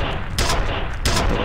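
Gunfire in the video game F.E.A.R., rapid automatic shots forming a continuous loud burst, with two sharper bright cracks standing out over a short second and a half.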